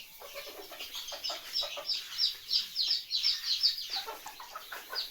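Chickens about one and a half months old cluck and chirp in a room, a continuous busy chorus of overlapping calls at moderate distance, fairly quiet with a steady rhythmic pulse.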